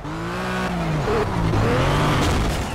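Tyres squeal loudly as a Ruf RT12R sports car drifts in the racing video game Project Cars, a sustained wavering screech over a continuous engine roar.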